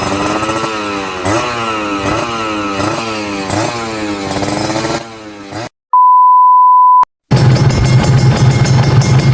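A loud motorcycle with a racing exhaust revs in rising, repeated bursts with a harsh raspy exhaust note, then cuts to a steady electronic beep before another engine roar resumes.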